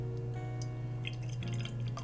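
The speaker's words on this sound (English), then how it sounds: "Pouring it into my Lake of Bays style tulip glass." Amber lager being poured into a tulip glass: a soft, steady trickle of liquid with faint dripping and fizzing, close and quiet, no talking, over a constant low electrical hum.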